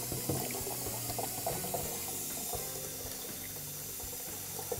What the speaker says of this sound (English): Let the water fill up.